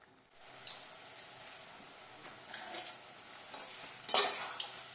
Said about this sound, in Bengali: আরো নাড়াতে হবে সব জল শুকিয়ে যাবে তেল ছাড়া হবে ততক্ষণ একটু এটা নাড়াতে হবে